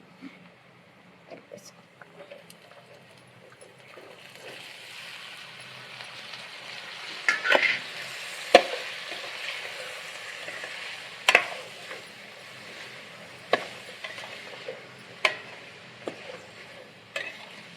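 Food fries in a pan with a faint, continuous low sizzle, broken by sharp scattered clicks and taps of a utensil against the cookware.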